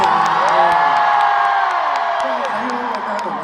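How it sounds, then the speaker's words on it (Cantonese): A concert audience on Day 7 of a concert run cheers and whoops loudly as a dense, sustained crowd roar that stays steady for the whole stretch. "今日首唱，我覺得係咪多啲歡呼聲先啊？"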